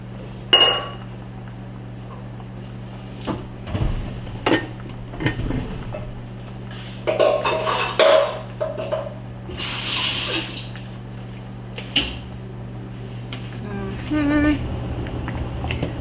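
Beef and potatoes in a spicy sauce are stirred around in a pot, giving scattered clinks and scrapes of utensil against cookware over a steady background hum.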